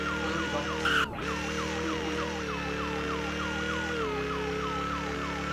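Emergency vehicle siren in the Roblox video game, a rapid repeating wail sweeping up and down continuously, preceded by a brief whoosh and clunk near the start.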